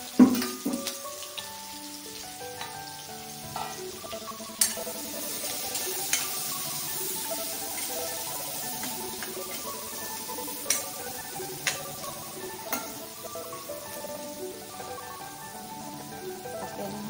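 Green chili, curry leaves and onion fry in a pan, spitting and popping in irregular bursts over a soft continuous sizzle, with a few sharp clinks early on.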